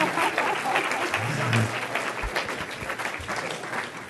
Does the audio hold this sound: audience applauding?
yes